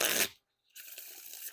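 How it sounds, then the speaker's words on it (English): Playing cards from a stiff, thick deck riffle shuffled twice, a brief dense burst followed after a short pause by a longer, softer fluttering riffle, close up with no talking. "Well, pretty nice riffle based off that first one."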